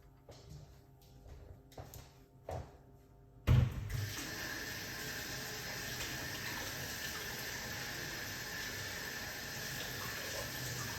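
Hot water poured into a cup, starting with a few soft knocks and then a sudden steady gushing stream that runs continuously and fairly loud for the rest of the clip.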